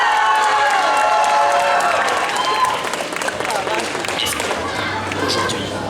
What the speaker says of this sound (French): Sous vos applaudissements, Grillmaster 76 par Akuseru.